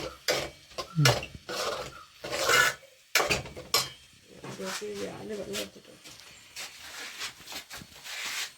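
Fish curry gravy is stirred in a pan for a Kerala village-style netholi (anchovy) curry made with ground coconut, with scraping and clinking of a utensil against the pan in bursts while people talk over it.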